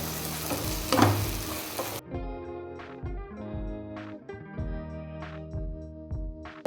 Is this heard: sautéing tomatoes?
yes